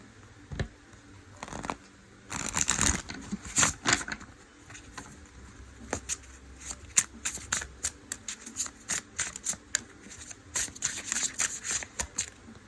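Muse tarot deck by Chris-Anne shuffled up close, a busy patter of papery riffles and slaps in uneven bursts, fairly loud and with no voice over it.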